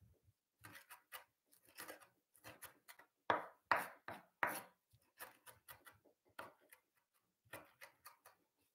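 A knife chops fresh mint and parsley on a chopping board for tabbouleh, a run of sharp, close wooden knocks in uneven bursts, with a few louder strikes in the middle.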